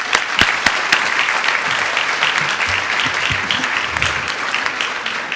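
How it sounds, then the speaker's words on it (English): A large audience at an arts awards party applauds an honoree named Tom Cervinsky, producing dense, sustained clapping that fills the room evenly, loud and steady throughout. "Please give a warm round of applause and congratulations to Tom Cervinsky"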